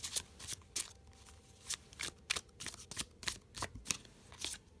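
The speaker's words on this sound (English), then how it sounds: "here is a nice little side shuffle for you guys" A tarot deck being side shuffled close up, producing a rapid series of crisp riffling bursts in an uneven rhythm, quiet and isolated with no talking.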